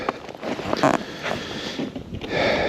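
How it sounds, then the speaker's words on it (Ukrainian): Wind gusts buffet the microphone in loud, uneven rushes, with a steady breathy roar outdoors on the Kyiv Reservoir while fishing for zander, and no talking. "Вітер дує."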